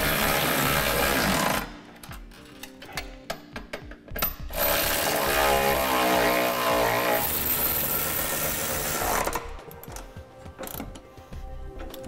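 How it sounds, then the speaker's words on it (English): Bolts of a Curt trailer hitch being driven tight with a 19 millimeter socket on a 2015 Nissan Rogue, loud bursts of rattling power-tool whirring broken by short pauses and clicks. "then we'll tighten down our three bolts on the driver's side, two bolts on the passenger side using a 19 millimeter socket"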